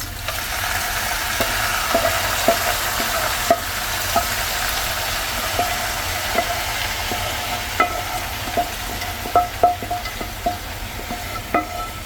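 Sauce goes into a pan of köfte and chopped tomatoes, giving a constant close sizzle and hiss broken by irregular light clinks and taps of a utensil against the pan.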